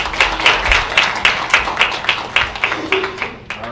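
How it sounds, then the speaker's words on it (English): Scattered applause from a student conference audience, a few people clapping in a loose, uneven rhythm that thins out over a few seconds, with a faint voice underneath. "Let's give her another round of applause."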